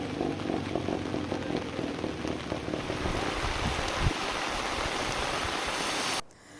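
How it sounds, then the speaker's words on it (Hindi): Heavy rain pours steadily in Uttarakhand, a dense, even hiss of water striking surfaces that holds for several seconds before cutting off abruptly near the end. "उत्तराखंड में भारी बारिश हो रही है"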